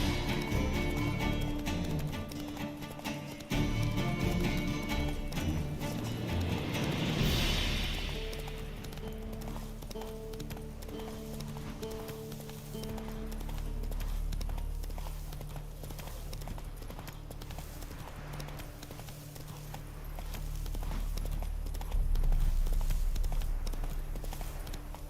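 Roach the horse galloping in The Witcher video game, rhythmic clip-clop hoofbeats running steadily amid game music and ambient sound, with a crash-like burst early on.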